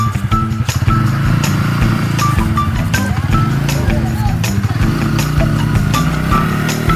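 Two-wheeler motor scooter running and being ridden, a loud steady buzzing engine drone close to the microphone throughout, with people talking over it.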